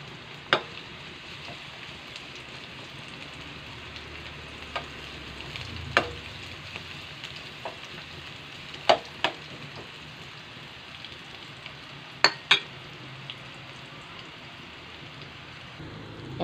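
Fish frying in a pan with garlic and onions, a steady soft sizzle running throughout with a few sharp pops and clicks scattered across it, no talking.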